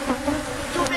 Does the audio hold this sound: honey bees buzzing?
yes